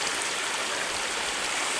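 A creek flows beside a hiking trail, a steady broadband rush of running water with a constant hiss and no pauses, close and loud.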